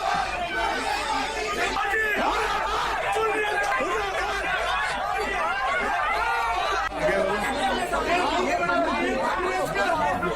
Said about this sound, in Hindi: रैगर समाज के लोगों ने विधायक के पहुंचते ही कांग्रेस मुर्दाबाद के नारे लगाने शुरू कर दिए